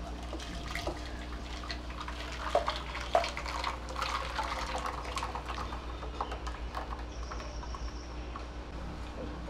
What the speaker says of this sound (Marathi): त्याच्यामध्ये हे जे आपण आत्ता मिश्रण वाटून घेतलेलं आहे ते गाळून घेऊया.